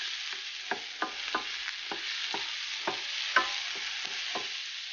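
Mushrooms, onions and peppers sauté in butter, a steady close sizzle broken by a dozen or so sharp scraping strokes of a utensil stirring the pan at an uneven rhythm.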